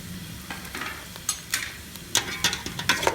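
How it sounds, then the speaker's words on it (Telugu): Onions fry in a pan for a spicy Telangana chicken curry while a spoon stirs them, giving a soft steady sizzle broken by sharp scraping strokes that come quicker toward the end. "ముందుగా వేసిన ఉల్లిపాయలు వేగే వరకు కలుపుతూ ఉండాలి"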